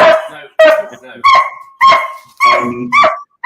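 A dog barks loudly and close by in a series of about six sharp, yelping barks spaced roughly half a second apart.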